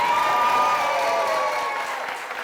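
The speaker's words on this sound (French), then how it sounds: "on va applaudir très très fort pour Francky" A studio audience on a television entertainment show applauding a performer, with sustained dense clapping that slowly fades, mixed with a held tone from the background music.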